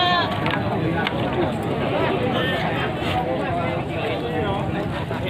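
Javanese goats of the Jawa Randu type bleat at a livestock market, several wavering calls overlapping close by against a busy crowd murmur and talk.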